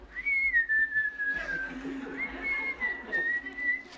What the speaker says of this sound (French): Tout le monde siffle, puis tout le monde vire la tête.